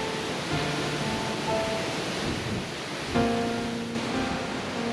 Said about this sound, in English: We made it to Virginia Falls, and it is amazing.